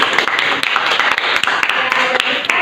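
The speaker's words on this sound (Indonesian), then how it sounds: "Kasih tepuk tangan dulu untuk kelompok 1" Classroom applause for a student group after its presentation, a dense patter of many hands clapping steadily and fairly close for a few seconds, with voices mixed in underneath.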